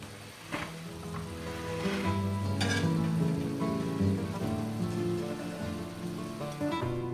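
Squid hits a hot Spanish paella pan and sets off a loud, steady sizzle with crackling spits, close and continuous, with no talking.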